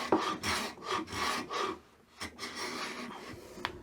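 Hand plane shaving the end grain of a wooden board to square it, a series of rasping back-and-forth strokes, close and fairly quiet, with short pauses between passes.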